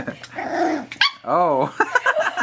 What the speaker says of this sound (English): Our first bark.